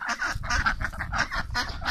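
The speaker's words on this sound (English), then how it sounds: "Hey, ducks." Several waterfowl call together nearby outdoors on a chilly day, a run of loud, overlapping honking quacks that repeat steadily with no pauses and no talking.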